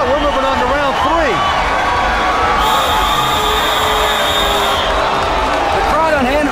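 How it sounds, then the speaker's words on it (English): Crowd noise at a live MMA fight night between rounds, loud sustained roar of spectators under a commentator's voice, with a brief whistle-like tone midway. "The crowd on hand erupting"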